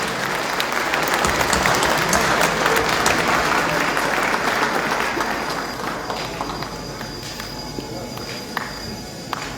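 A large crowd at an outdoor political rally in Gyumri, Armenia applauds in a sustained, dense burst of clapping that eases slightly toward the end, with some voices mixed in.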